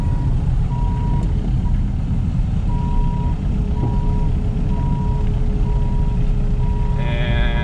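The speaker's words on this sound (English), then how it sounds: "So we'll drive on the blade side. And we'll just go ahead and pivot a little bit here." A rubber track excavator drives and pivots onto a low bed trailer, its diesel engine a loud, steady rumble while a reversing alarm beeps at a regular pace through the whole stretch.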